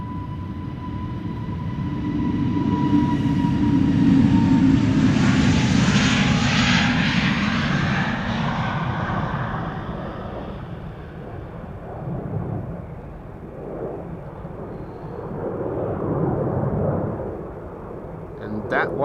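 An Airbus A320neo departs on flight 461 to Reykjavik, a loud close engine roar that swells, peaks and then fades as the jet climbs away, with a voice talking over it.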